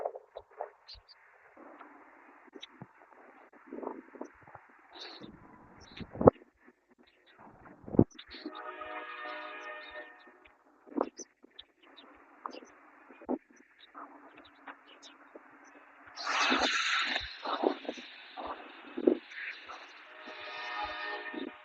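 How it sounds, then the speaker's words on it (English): A train moves along railroad tracks near a city street in Columbus, with distant horn blasts and rumbling passes rising and fading amid quiet outdoor ambience and occasional talking. "There's either another train coming or that one train that was sitting there is starting to move."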